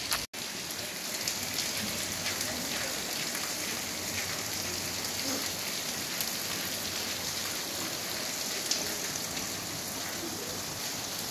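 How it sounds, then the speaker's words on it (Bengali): Heavy rain pours down steadily in a hot spell, a dense, unbroken hiss of drops hitting surfaces close by, with no voices, holding an even loudness throughout. "আমাদের এখানে বৃষ্টি হচ্ছে খুব, তোমাদের দেখাই কীরকম বৃষ্টি নেমেছে।"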